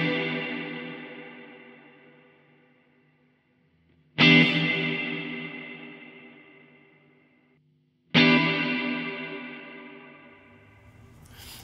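Guitar chords run through Baby Audio Crystalline algorithmic reverb, three strummed hits spaced about four seconds apart, each blooming into a long shimmering tail where the bright upper overtones linger as the sound slowly fades.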